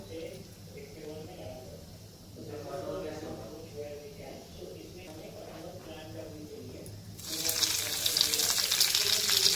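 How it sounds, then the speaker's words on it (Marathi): Someone talks briefly, then oil hits a hot pan on a gas stove with a sudden bright hiss and sizzle that continues steadily. "थोडंसं तेल ओतून घेऊया"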